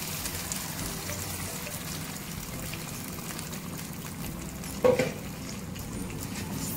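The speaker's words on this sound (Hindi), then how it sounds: "अब इसमें हम टमाटरों की प्यूरी ऐड करेंगे।" Tomato puree being stirred into a frying biryani base, a steady close sizzle and bubbling throughout, with a brief louder scrape of the spoon near the end.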